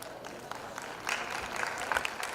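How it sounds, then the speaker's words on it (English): Audience at a school's annual prize day applauding a prize winner: a soft, distant, steady patter of many hands that swells slightly partway through. "A wide round of applause, dear audience."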